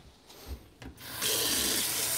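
A paintbrush is swished and rinsed in a water container while cleaning it during painting, with a couple of brief splashes followed by a steady, close rushing slosh that holds to the end.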